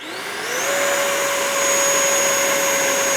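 A Horizon Hobby Viper 90mm RC ducted fan jet spools up, its whine rising in pitch over the first half second and then holding a loud, steady high-pitched roar close by.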